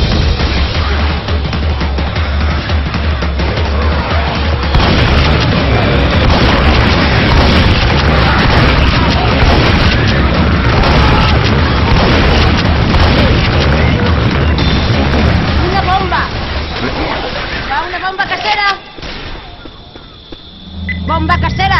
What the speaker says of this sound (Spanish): ¡Bomba casera!